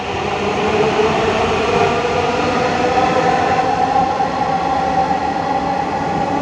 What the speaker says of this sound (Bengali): এই যে পাই যে আর একটা মেট্রো যাচ্ছে এইদিকে